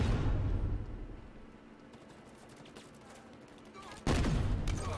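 Halo game gunfire in dense rapid volleys, loud at first and fading into scattered distant pops, then a sudden fresh burst of heavy firing near the end.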